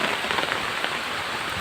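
Hailstones pelt down onto surfaces during a hailstorm that damaged houses, a steady, dense, close hiss of impacts with no voices.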